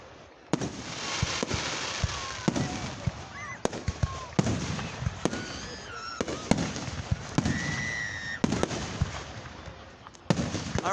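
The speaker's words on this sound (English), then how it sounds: "All right, folks, enjoy the fireworks." Fireworks show at the 2023 Ohio City John Lambert Days, a series of sharp booming bursts spaced a second or so apart, some followed by whistling and crackling, with distant crowd murmur and occasional voices between explosions.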